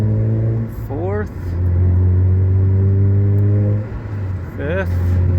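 A Mazda RX-8 accelerates hard through the gears, its engine note climbing steeply and cutting for quick shifts, loud and close with a steady in-car rumble.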